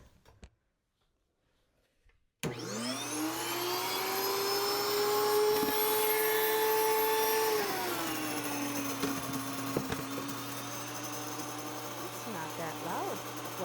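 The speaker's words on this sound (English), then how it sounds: "So that is the mill." An electric grain mill starts up with a rising whine and settles into a loud, steady grinding roar that dips slightly in pitch as it works through the grain, close and continuous for about eleven seconds.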